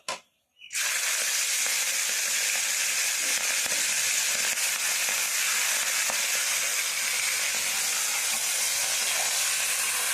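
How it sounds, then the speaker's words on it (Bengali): A sudden loud sizzle of fish dropping into hot oil in a wok, then continuous crackling and hissing frying that holds steady to the end. "কড়াইয়ে কিন্তু তেল দিয়েছি গরম হয়ে গেছে এখন আমি মাছটাকে ভেজে নেবো"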